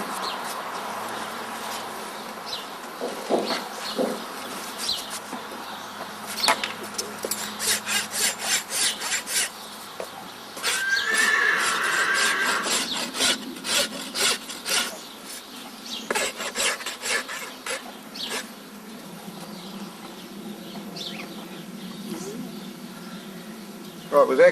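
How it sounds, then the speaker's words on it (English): A farrier's rasp files the toe of a Clydesdale horse's hoof in steady repeated scraping strokes, close and prominent, with someone talking over parts of it and faint birdsong behind. "that's as much rasping as you need to do in the toe area"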